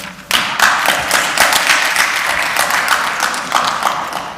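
Applause in the Armenian parliament at the close of a session: a hall full of people bursts into steady, dense clapping that starts abruptly and carries on evenly, close and loud.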